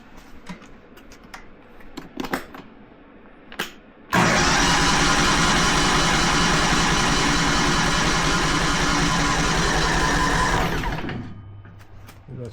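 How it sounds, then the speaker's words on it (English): A mini skid-steer snowblower's starter cranks its engine in one loud, continuous, close-up churning burst lasting several seconds before cutting off, with scattered clicks and handling noises just before. "I probably have to run the starter a bit to prime the fuel line."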